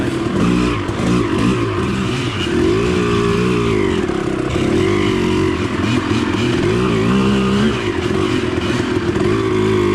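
An RM250 dirt bike's two-stroke engine drones and revs loudly and continuously while riding and drifting through thick mud, close up with clattering underneath.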